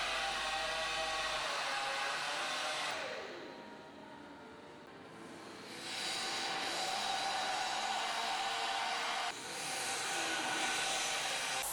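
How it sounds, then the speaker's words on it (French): A hot air plastic welder fills a chamfer with welding rod, producing a continuous airy roar that dips quieter in the middle before swelling back to full strength, with no talking. "Remplir la partie chanfreinée avec la baguette à souder."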